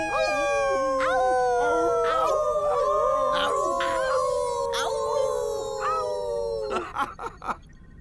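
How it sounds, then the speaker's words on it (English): A wolf cub howls in long, wavering, high-pitched calls that slide downward, several overlapping howls in sequence, fairly close, ending in short yips. "How did he learn to howl already?"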